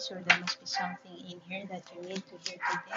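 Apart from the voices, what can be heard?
dog barking in the background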